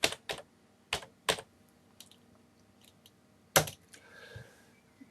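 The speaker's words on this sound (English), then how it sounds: "so I'm going to just type in" Keystrokes on a computer keyboard, a few separate taps and short bursts with pauses between, close and clear in a quiet room, with no talking.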